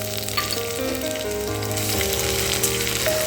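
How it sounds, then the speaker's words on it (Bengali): Green chilies and ginger hiss in hot oil in a pan already holding fried cumin and dried chili, for a red lentil ghugni. The sizzle is loud and steady throughout, with a faint tonal hum beneath it and no voices. "এর মধ্যে কাঁচা লঙ্কা আর আদাটা দিয়ে দিচ্ছি।"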